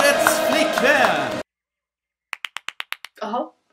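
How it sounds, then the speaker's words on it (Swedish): After a pause, roughly eight quick, sharp hand claps ring out in an even rhythm, then a short burst of voice follows. "En varm applåd för årets flickvän!"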